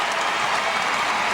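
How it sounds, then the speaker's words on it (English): A home crowd at Allen Fieldhouse cheers and applauds during a 1996 Kansas vs. Iowa State college basketball game, a dense, loud, sustained roar of voices and clapping that fills the whole moment. "you hear a loud cheer going up"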